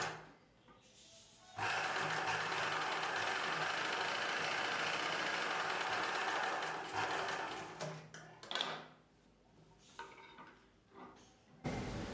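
Electric sewing machine stitching blouse pieces, running in a loud continuous whir for several seconds, then stopping and restarting in short bursts, with brief handling noises between runs.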